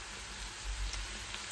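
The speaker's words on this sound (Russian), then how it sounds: "пару минут жарим на оливковом масле" Tiger prawns, beans, garlic and enoki mushrooms fry in olive oil in a pan, a steady soft sizzle with no talk.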